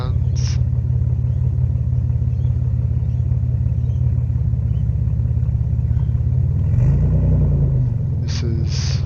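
A rebuilt Nissan Stagea NM35 with a VQ25DET turbo engine idles with a steady, loud, close-up rumble, and a brief blip of revs rises and falls near the end.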